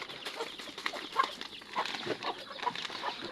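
Hens clucking around their nesting boxes at laying time, a scattering of short, moderately loud clucks and calls in a steady run with no talk.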